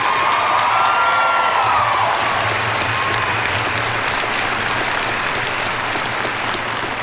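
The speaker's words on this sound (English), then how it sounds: "Graduates, let's hear a thunder of applause for these hardworking people who have worked with you" Graduates at a Fall 2010 commencement ceremony applaud their faculty members in a loud, sustained wave of clapping with some cheering, filling the hall steadily from start to finish.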